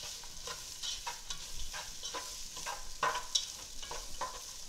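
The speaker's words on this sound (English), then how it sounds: "While the onion is cooking" Onion cooks in hot oil for tinga de pollo, with a soft, steady sizzle and light, repeated stirring scrapes. It is quiet and close, with no voices.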